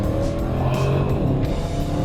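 An Audi RS 6 Avant corners hard on a road, engine droning loud and steady while tires squeal and scrub through the turn.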